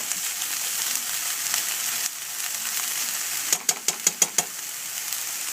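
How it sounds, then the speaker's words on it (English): Ground turkey simmers in a pan for an omelette, giving a steady close hiss, then a quick series of about six sharp clinks as a utensil taps the pan near the end. "and then I'll let it simmer just a little bit."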